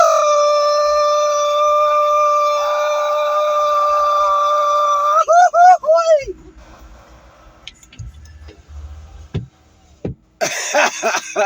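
A man lets out a long, high, sustained Mexican grito shout that wavers and breaks into a yelping trill, then trails off into quieter rustling and short vocal noises.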